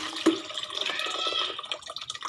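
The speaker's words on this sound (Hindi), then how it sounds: "पानी हम इसमें डाल देंगे मूली समेत" Water poured with sliced radish into a glass bottle for pickling, a close, steady trickling splash with a brief clunk at the start, no talking.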